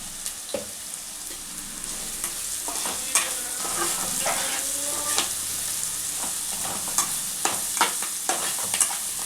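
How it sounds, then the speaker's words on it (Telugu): Ginger garlic paste with turmeric fries in a pan for Telangana-style korameenu fish curry, a constant close sizzle broken by scattered scrapes and clicks of stirring. "ఇవి కొంచెం మంచిగా ఫ్రై కావాలి అల్లం వెల్లుల్లి పేస్ట్ పచ్చి వాసన పోయే వరకు"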